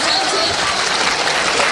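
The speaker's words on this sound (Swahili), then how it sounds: "Mpigie makofi." A crowd at a political party meeting in Mombasa applauds, giving a dense, steady clatter of clapping that stays loud throughout.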